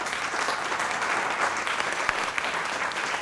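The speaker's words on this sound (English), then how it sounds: "Big round of applause for David." An audience applauds after a conference talk on LENR commercialization, a dense, even wash of clapping sustained throughout with no speech.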